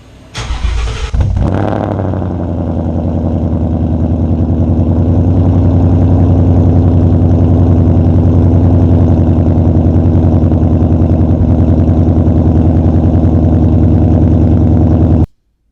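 A Ford Mustang fitted with an aftermarket stainless catback exhaust starts up with a loud burst, then settles into a steady, deep, rumbling idle that runs close and strong throughout before cutting off at the end.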